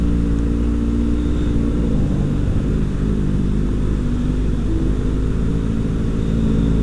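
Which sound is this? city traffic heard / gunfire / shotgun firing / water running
city traffic heard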